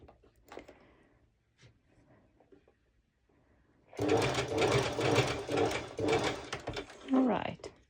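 A sewing machine runs a basting stitch slowly through slippery lining fabric, quiet handling noises at first, then a loud, steady whirring stitch rhythm for the last four seconds, close up.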